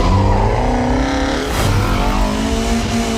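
1985 BMW E30 M3 sports car engine revving loudly nearby, with rising and falling harmonic whines as the revs climb and shift, and no talk.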